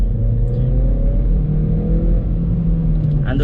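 A VW Polo GT TSI engine accelerating from inside the car, a steady low rumble with slowly rising engine tones as revs climb, holding loud and continuous throughout.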